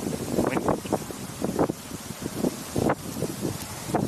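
Breezy wind outdoors on a Ferris wheel ride, a steady buffeting rush against the microphone with gusty swells and faint rustling throughout.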